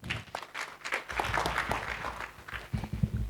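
Audience applause for a speaker at an international pharmacy research conference, a dense patter of many hands clapping through the room, steady and moderately loud with some low thumps near the end.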